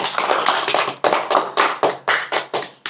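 An audience at an Islamic religious lecture claps in a rhythmic run of about a dozen sharp, evenly spaced beats, loud and close.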